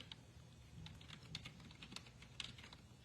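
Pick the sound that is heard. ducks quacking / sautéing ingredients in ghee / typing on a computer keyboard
typing on a computer keyboard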